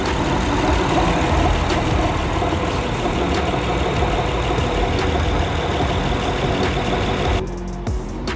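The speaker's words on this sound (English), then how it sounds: "V6 engine. No issues. So it sounds like when it's idling." A 2011 Honda Odyssey Touring minivan with a V6 engine idles, heard close as a steady, even low rumble and hum that holds constant before dropping slightly in level near the end.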